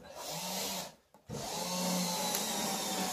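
A power drill drives screws into recycled wood planks, a steady whirring run broken by a brief pause, then resuming and holding on, close and fairly loud with no talk.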